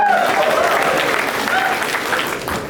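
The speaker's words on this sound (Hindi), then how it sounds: "एक बार सिद्धांत के लिए जोरदार ताली है।" A college audience at a roast comedy show at IIT Kanpur breaks into loud, sustained clapping that fades slightly toward the end, with a voice speaking over it.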